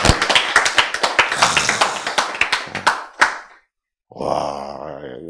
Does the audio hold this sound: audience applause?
yes